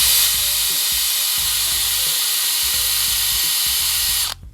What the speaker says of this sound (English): I've got the wire, the drill bit in there